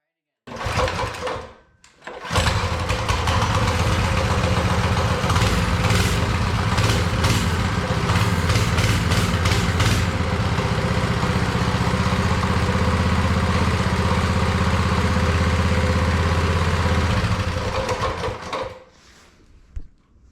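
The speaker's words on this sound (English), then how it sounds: "let's start it up and make sure the throttle linkage works" A Coleman mini bike's small engine sputters, briefly catches and cuts, then fires up and idles loudly and steadily for about fifteen seconds before shutting off.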